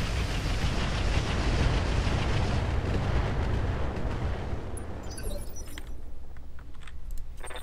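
Incendiary-ammo weapon fire in the mech game Roguetech, a dense roaring barrage of bursts and rumbling blasts that fills the first half, then thins into scattered crackles and pops over a lingering low rumble.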